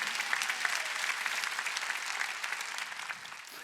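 A church congregation at a worship service in an arena hall applauds, giving a dense, continuous wash of many hands clapping at steady volume that fades slightly at the end.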